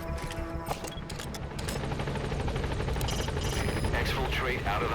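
A helicopter arrives at a landing zone in Metal Gear Solid V, its rotor thudding loudly and steadily amid gunfire and battlefield noise, with voices talking over it.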